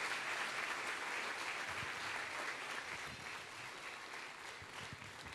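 A congregation applauding during a church service, a soft continuous wash of clapping from many people, distant and low in level, easing slightly toward the end.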